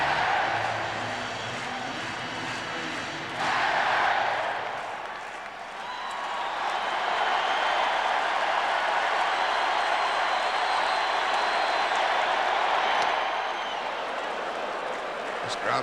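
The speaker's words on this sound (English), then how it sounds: "This crowd makes a noise, don't they?" A dense baseball crowd at a 1991 World Series Game 6 in Minnesota roars continuously, swelling into a louder burst of cheering partway through, with a commentator talking over it.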